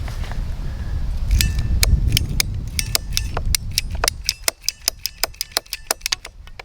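Pieces of plastic irrigation line for a raised garden bed are trimmed at the ends, giving a quick series of sharp, crisp snipping clicks close up, alone.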